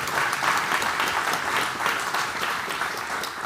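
A room full of people applauding for a paralysed man who controls a computer with his thoughts, the first Neuralink user: dense, continuous clapping at an even level throughout, with no talking over it.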